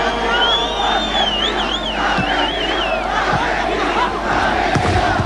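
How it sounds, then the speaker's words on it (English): A boisterous football crowd in Paysandú, on the Uruguay–Argentina border, cheers loudly and continuously, with whistles and chants rising over a dense roar throughout. "a boisterous crowd here in Paysandú, on the border between Uruguay and Argentina"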